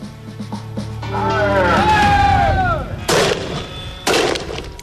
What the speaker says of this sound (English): These are Stinger grenades. When they explode, 24 tiny rubber balls fire out to batter and bruise opponents into submission.